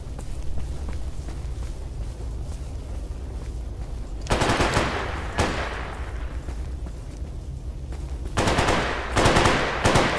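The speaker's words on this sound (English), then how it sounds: "There's just gunshots every frickin' where." Automatic gunfire in the video game S.T.A.L.K.E.R. Anomaly GAMMA, loud nearby bursts breaking out mid-stretch and again near the end over a low background rumble, with short rattling volleys.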